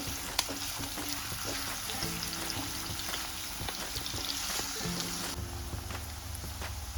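Onion frying in oil in a pan for quick egg rice, a steady dense sizzle with faint crackles, close and continuous, with no talking.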